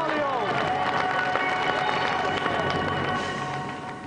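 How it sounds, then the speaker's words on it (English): Steady applause from a TV studio audience, dense and sustained, fading slightly near the end, with some voices mixed in. "let's give another round of applause for our two guests today, Philip Tufnell and Adam"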